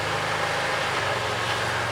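An Argo Conquest 8x8 all-terrain vehicle's engine throttles up while the machine turns on the spot, a loud, continuous low rumble with a steady pulsing drone and no voices.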